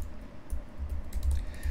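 Someone types Python code on a computer keyboard in a quick, uneven run of soft, close key taps and clicks over a low background hum.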